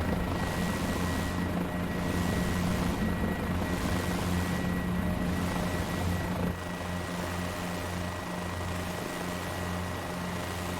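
Guimbal G2 helicopter rotor in Microsoft Flight Simulator 2020, a steady droning whir with a rhythmic rotor pulse, constant and moderately loud with no voices.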